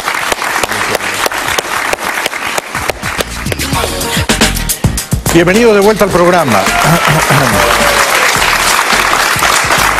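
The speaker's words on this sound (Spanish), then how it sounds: "Todos los aplausos son para nuestro invitado de esta noche" Applause and clapping from a Colombian TV studio audience fill the room, with someone speaking Spanish over it and the clapping continuing under his voice.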